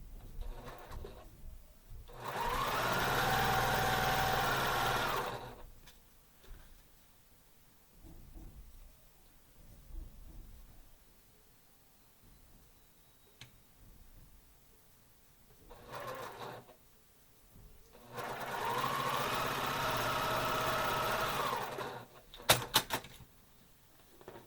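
A sewing machine stitches quilt pieces in two steady runs of a few seconds each, with quiet handling and fabric shuffling in the pause between them and a few clicks at the end.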